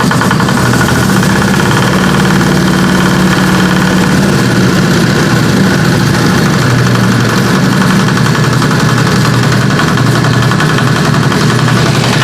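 A motorcycle engine runs steadily after being kick-started, throttle held raised to about three quarters, giving a loud, close, continuous rumbling drone with no talk.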